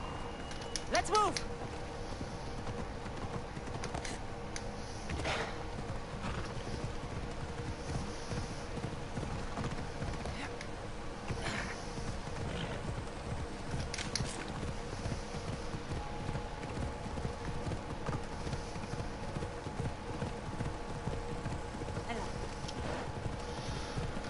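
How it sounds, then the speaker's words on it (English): Steady clip-clop of horse hooves while riding in Assassin's Creed Odyssey, a rhythmic trot running throughout, with a voice speaking over it. "Come on, horse."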